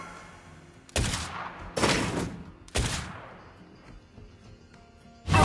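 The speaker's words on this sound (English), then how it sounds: "Our turret is under attack." In the Mobile Legends video game, a turret comes under attack with a series of loud, separate blasts spaced about a second apart, each with a short rumbling tail over quiet game background.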